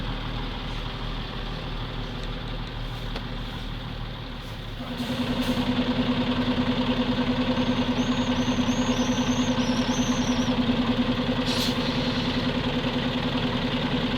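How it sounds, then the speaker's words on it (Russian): A homemade Volvo tow truck built for hauling hay, rated to pull 3 tonnes, idles and then revs up as it drives off, giving a steady, loud, close engine drone. "Ну и Volvo поехала."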